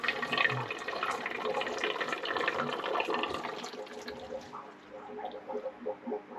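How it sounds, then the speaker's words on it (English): Fluval FX4 canister filter filling with water, a continuous rushing, gurgling flow that slowly eases into softer trickles and bubbling near the end, close and fairly loud, no speech. "Okay, so the canister is now full."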